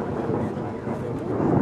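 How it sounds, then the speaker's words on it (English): Thunder rumbling during a thunderstorm, heard as a steady broad low roar filling the whole clip at moderate loudness, with no distinct crack. "Thunder and lightning in the background."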